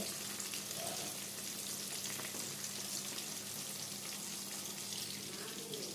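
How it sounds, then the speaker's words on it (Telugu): Marinated chicken kebab frying in hot oil gives off a steady, quiet sizzle with a broad hiss that holds evenly throughout. "ఫస్ట్ మనం ఆయిల్ వేడి పెట్టుకొని కబాబ్ మనం ఏదైతే మ్యారినేట్ చేసుకున్న చికెన్ ఉందో అది వేసేసుకొని"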